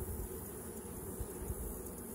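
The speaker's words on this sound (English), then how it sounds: "These are the bees, females." Honey bees swarm around an open hive, making a dense continuous buzz that stays close and steady throughout, with no talking.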